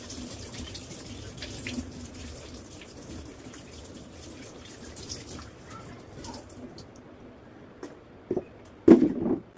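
Water runs softly from a tap as hands are washed, a faint steady trickle that gives way to a few louder splashes and knocks at the end.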